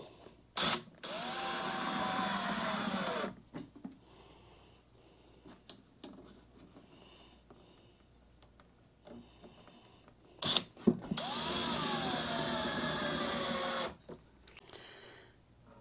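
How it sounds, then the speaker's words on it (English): A cordless driver set to low torque drives screws during RV repairs, making two close, loud whirring runs of about two and three seconds each, with quiet handling noises between them. "I've put the torque real low on the driver so it doesn't strip out the screw hole."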